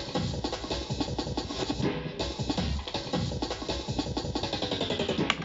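A fast jungle breakbeat sequenced on a Polyend Tracker with a rewind effect and a pitch run, dense and loud, with busy chopped drums driving continuously and no talking.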